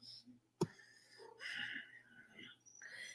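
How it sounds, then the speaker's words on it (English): A pet cat meows softly a few times close by in a quiet room, brief faint cries with short pauses between them. "Gotta stop and give Kitty loves."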